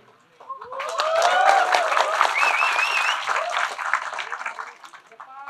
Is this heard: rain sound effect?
no